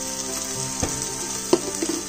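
Turmeric, garam masala and coriander powder frying in a pan for masala Maggi noodles, giving a steady close sizzle with a couple of sharp stirring clinks.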